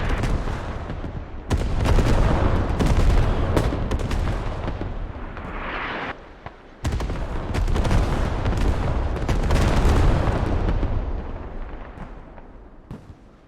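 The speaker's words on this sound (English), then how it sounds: "0 kills off that artillery strike, I think." Booming artillery strike explosions in the tactical shooter game Squad, loud and dense, in sustained rumbling barrages with a brief lull midway before the blasts resume and slowly fade.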